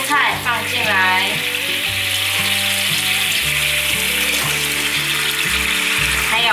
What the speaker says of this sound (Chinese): 调味料炒匀后，把刚刚煎好的蔬菜放进来